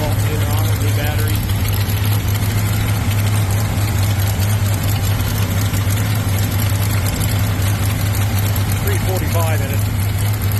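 A 1983 International S1724 dump truck sits idling with a leaking exhaust manifold, its engine a steady low rumble with a ticking exhaust puff, loud and close, while someone talks over it.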